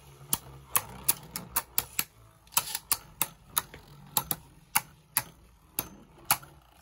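Beyblades Draciel and Dranzer clashing in attack mode in a plastic stadium, a run of sharp, close clicks and knocks at uneven intervals with quiet spinning between the hits.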